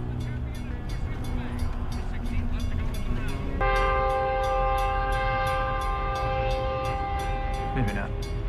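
A train rumbles past nearby, then its horn blares a long, steady tone over the rolling clatter of the cars, with some talking mixed in.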